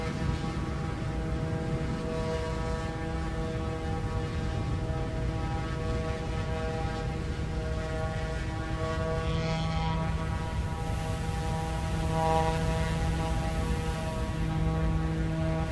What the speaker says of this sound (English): I hear a big plane somewhere nearby